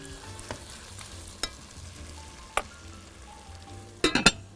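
Onion, carrot and pepper fry in a heating pot, giving a soft, steady sizzle. A few sharp utensil taps and clinks cut through it, and a quick cluster of scraping stirs comes near the end.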